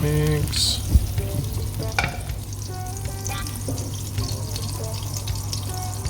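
Canned tuna sisig is stirred and scraped in a sizzling frying pan, a steady close frying hiss with occasional utensil knocks and no talking.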